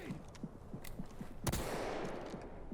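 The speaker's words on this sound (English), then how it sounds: "Deploying flash! Grenade!" A flashbang grenade detonates in the tactical shooter Ready or Not with one sharp, loud burst midway. Steady low thudding pulses, like a pounding heartbeat, run underneath throughout.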